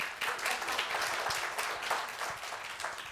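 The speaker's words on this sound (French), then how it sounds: "On applaudit." Audience applause at a French magazine-style show taping, a steady wash of many hands clapping at moderate volume, with a few sharper individual claps standing out through the roughly three-second burst.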